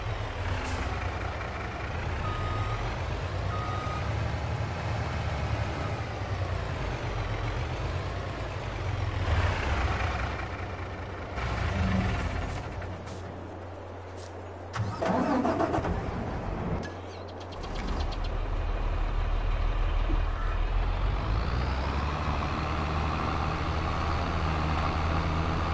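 A Mack semi truck in Farming Simulator 22 runs with a steady, loud engine drone throughout, with brief air-brake hisses and shifts partway through; no distinct reversing beeps stand out.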